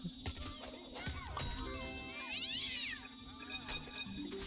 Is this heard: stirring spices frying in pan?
no